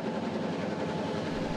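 Steady rumble of a train rolling along the tracks, a continuous low roar with a faint rhythmic rattle, no voices over it.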